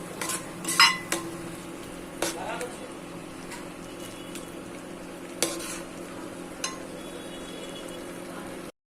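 Masala for country chicken curry fries in oil with a low, steady sizzle, punctuated by a few clinks and scrapes of a spoon against the pan, close by.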